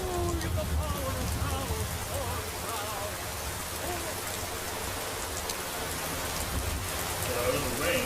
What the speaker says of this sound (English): get out of the rain, because that's not going to be very good, especially in this sort of weather